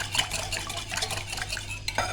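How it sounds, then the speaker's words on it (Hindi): A cup of yogurt whisked in a bowl for an eggless bakery-style tea cake: a utensil stirs and scrapes steadily against the bowl in a continuous busy clatter, with no talking. "अब इसमें डालेंगे दही 1 कप। इसको थोड़ा सा फेंट लेंगे"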